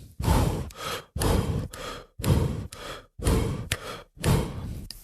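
Rhythmic breathing while jumping rope, two jumps per breath, in pairs of strong puffs and shorter breaths, repeating steadily several times, close and alone.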